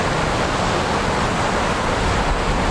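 A dangerous, swelling forest river rushes loudly and close by, its broad unbroken roar filling the whole stretch with no pauses and no voices.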